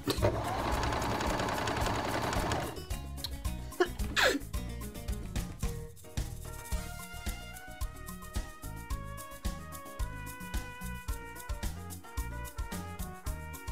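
A domestic sewing machine stitches a trouser leg out of a duvet cover. It opens with a steady, dense whir for about two seconds, then runs in a string of short, rhythmic bursts with brief pauses, close and fairly loud.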